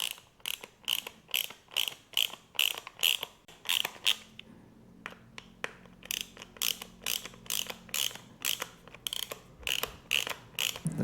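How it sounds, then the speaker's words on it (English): A hex key drives 4mm bolts into a Pro Watercraft wedge sponson on a Yamaha SuperJet 4-stroke, giving a rapid, regular series of sharp ratcheting clicks close by that continue without a break. "we're going to get our 4mm bolts and our hex and try to screw it in"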